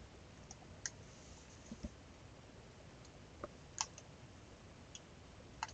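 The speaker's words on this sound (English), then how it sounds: "I'm just going to hit the up arrow on my keyboard just to pan up." A computer keyboard's up arrow key is pressed during CAD software work, giving a few faint, sparse clicks spaced irregularly over a quiet room background.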